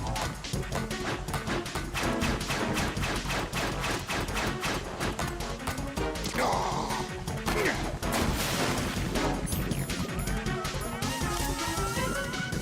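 Rapid gunfire in Metal Gear Solid 2 as a thrown knife is shot, dense cracking shots and metallic impacts running continuously over busy game sound.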